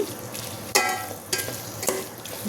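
Vegetables with mint and coriander frying in oil for a potato and carrot veg biryani, a steady sizzle with three sharp scraping stirs of a spoon close by.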